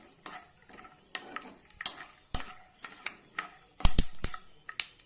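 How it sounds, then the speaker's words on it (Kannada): Avalakki chooda being made: raw peanuts frying in hot oil in a pan, soft sizzling broken by sharp stirring clinks and scrapes of a spoon against the metal, close and fairly quiet. "ಇದರೊಳಗೆ ಎಣ್ಣೆಲೆ ಫ್ರೈ ಮಾಡ್ಕೊತಾ ಇದ್ದೀನಿ"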